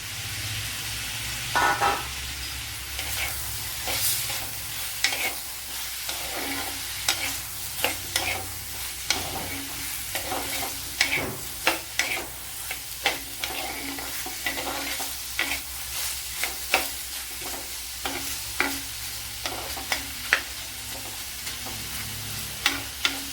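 Cut green mango pieces fry in a hot pan for a curd curry, a continuous loud sizzle with frequent scraping clicks of a stirring spoon, close and without talk.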